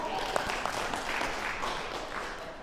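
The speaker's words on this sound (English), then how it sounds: "Give that man a round of applause." A crowd at a social media strategy talk claps for a man seated among them, a short burst of mixed applause with a few sharp individual claps standing out and some voices murmuring underneath.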